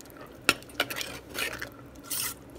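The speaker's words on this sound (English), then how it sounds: "So I'm going to give that a stir." A tuna casserole mixture with grated cheese stirred in a pot, giving a sharp utensil clink, then soft scraping and squishing strokes close by with no talking.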